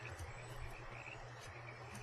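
A nature ambience from the colony-building game Banished: a dense, steady chorus of crickets or frogs trills on without pause beneath a soft wash of breeze and running water.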